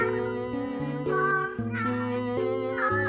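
A cat meows in a long, warbling run of voiced, human-like calls whose pitch rises and falls, close and loud with no other sounds.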